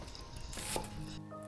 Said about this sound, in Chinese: 我哋想切少少洋葱丝先。